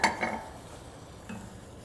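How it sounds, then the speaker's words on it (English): Onions and peppers sweating in a pan over a campfire, with a couple of clinking utensil stirs near the start and another around the middle over a faint, steady sizzle. "we're just gonna sweat these out, stirring them every once in a while and cooking them until they're softened"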